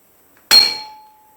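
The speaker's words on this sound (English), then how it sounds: "this is just a claw hammer and a piece of pipe," A claw hammer strikes a piece of pipe held in a vise once, giving a sharp metallic clang that rings on with a clear, slowly fading tone.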